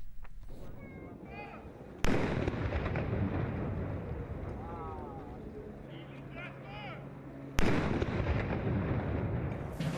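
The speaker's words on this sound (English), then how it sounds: "The 21-gun salute at the Esplanade des Invalides behind the Eiffel Tower" Ceremonial cannon fire of a 21-gun salute at the Esplanade des Invalides in Paris, with distant heavy booms spaced several seconds apart over a dense, noisy outdoor crowd and ambient din.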